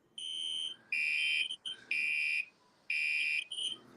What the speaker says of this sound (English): When does this fire alarm end?